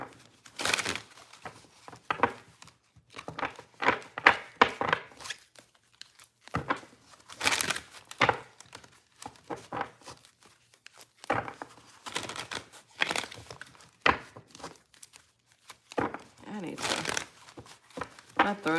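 Tarot cards are shuffled repeatedly in bursts of riffling and slapping, close and crisp, with brief pauses between shuffles and some talking mixed in.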